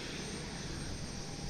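Aircraft engine roar at Osaka Itami Airport as JAL and ANA Boeing 787 Dreamliner airliners depart together for Tokyo Haneda, a steady, loud, broad rumble and whine filling the moment with no voices.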